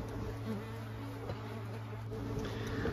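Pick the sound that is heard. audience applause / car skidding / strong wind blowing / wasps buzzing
wasps buzzing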